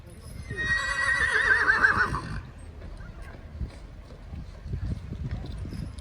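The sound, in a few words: horse-drawn tour carriage, horse hooves clip-clopping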